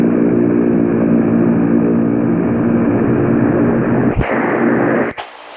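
Loud, steady jet engine roar from an Emirates airliner in the Infinite Flight game, holding for about four seconds with strong low rumble before a sharp cut and a brief, quieter tail of noise.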